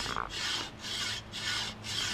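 Knife scraping slowly across the thick shell of a giant hardboiled egg, a quiet gritty rasping in three or four rhythmic back-and-forth strokes, close and soft with no speech.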